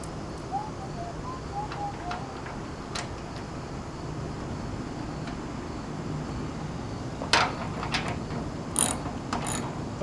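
Ratchet wrench cranking a bolt into the flange of a gas tank on a 4WD Daytona in a workshop, a few faint, sparse clicks with a louder burst of ratcheting near the end, no talk.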